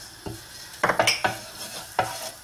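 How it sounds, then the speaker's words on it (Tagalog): Garlic sautés in hot oil in a pan while a utensil stirs it, giving several close, distinct scraping clacks over a soft sizzle. "Na mainit na yung oil, lagay na natin yung garlic. Mag-gisa lang tayo."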